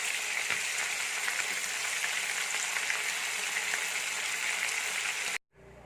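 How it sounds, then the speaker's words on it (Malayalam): Chicken sizzles steadily in a pan over a medium flame while frying for a dhaba-style chicken curry; the dense crackle stays loud and even, then cuts off abruptly just before the end. "അപ്പോൾ നമ്മുടെ ചിക്കൻ ഫുൾ ഫ്രൈ ആയിട്ടുണ്ട്"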